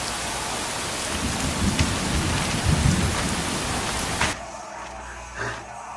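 Thunderstorm with heavy rain, a loud wash of rainfall and rumbling thunder that cuts off abruptly near the end, leaving a quieter background with a faint low thud.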